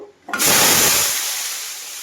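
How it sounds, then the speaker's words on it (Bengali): Washed potatoes hit hot oil in a home kitchen pan with a sudden loud burst of sizzling that holds steady, then slowly tapers over the next two seconds. "তেলটা গরম হয়ে গেছে আর এখানে আলু ধুয়ে রেখেছি তো এটাকে ভেজে নেব"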